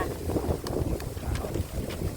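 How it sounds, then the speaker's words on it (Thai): Steady outdoor wind buffets the microphone in a continuous low rumble, with a few faint higher rustles and no voices. "มันคือลม"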